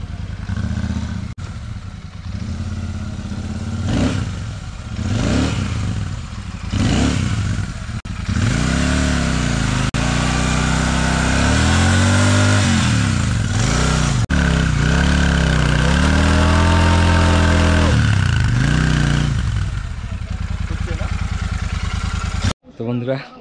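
A Royal Enfield motorcycle engine thumps at close range, idling and then revving in repeated rising and falling sweeps on a rainy day while the chain is checked for noise. People talk over the engine throughout.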